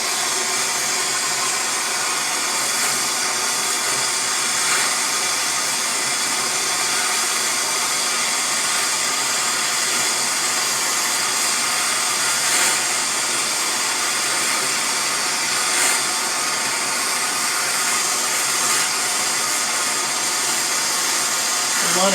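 A torch roars steadily and loudly for over twenty seconds as it heats a coin ring until it glows red, a broad continuous hiss with slight flickers and no voices.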